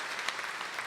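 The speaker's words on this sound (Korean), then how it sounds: "한국 여전도의 성가단 아름다운 찬양 감사의 박수를 해주시기 바랍니다" An audience applauds warmly after a church women's choir sings a hymn, a brief, steady burst of clapping heard at moderate volume in a hall.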